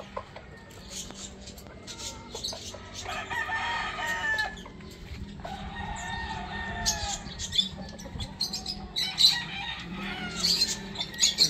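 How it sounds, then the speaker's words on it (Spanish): Chickens on a farm hacienda cluck and squawk in a steady, moderately near chorus over a faint outdoor background, with a rooster-like call rising now and then. "Esa es una gallina"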